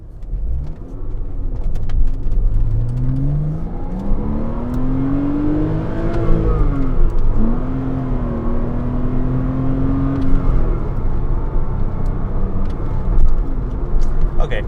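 A 2007 Porsche Cayman S driving and accelerating: the engine note rises and falls through several revs and gear changes, loud and close for a long steady stretch with wind and road noise.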